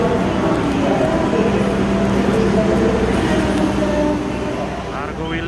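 Trains pulling out of an Indonesian railway station platform, a loud steady rumble and rolling clatter filling the scene, with a faint tonal hum that eases off toward the end.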